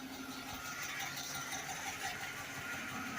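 Fully warmed 2014 Dodge Charger 5.7 Hemi V8 idling with a tick, a faint steady low rumble under a fine rapid ticking rattle, even and unchanging throughout.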